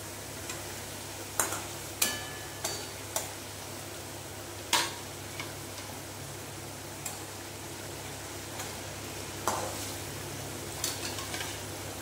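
Pointed gourd (patol) sizzles in a pan with a steady hiss of frying, broken by several sharp scrapes and taps of a spatula against the metal.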